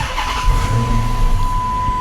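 Dodge Charger engine idling steadily at close range with a low rumble, plus a constant high-pitched tone over it; the car has a reported bad shake and a check engine light.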